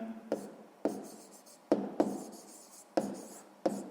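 Pen strokes on paper while writing out a sixth-grade math solution, a series of brisk scratchy marks in short bursts with brief pauses between them, close and fairly quiet, no speech.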